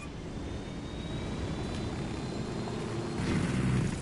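A helicopter in the game Ghost Recon Wildlands drones with a steady engine roar that swells slightly louder toward the end, with no talk over it.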